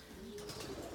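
Racing pigeons, 2018 young birds, cooing inside a loft; a soft, close murmur of low coos runs through the short moment with some faint higher bird sounds.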